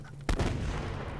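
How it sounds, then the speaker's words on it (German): Explosion in the video game Subsistence, a single sharp booming blast followed by a rumbling tail over steady background noise. "Der ist ja explodiert."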